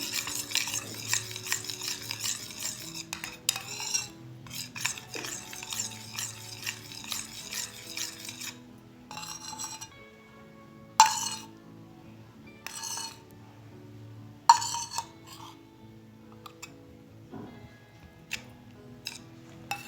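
Ingredients for a homemade cracked-heel remedy being stirred in a bowl, with bursts of rapid spoon scraping and several sharp clinks against the bowl, set against soft background music.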